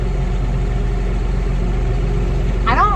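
A tractor engine idles steadily after being cranked, with a low continuous rumble throughout and a brief higher whine rising near the end.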